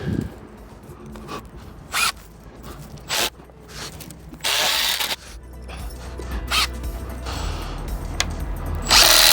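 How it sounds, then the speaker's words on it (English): Power drill driving screws into a wooden deck stair stringer, several short loud whirring bursts separated by pauses, with scuffing and handling noises between them, close by and without talk. "Just gonna put a few screws in this bad boy. 2 screws in each end."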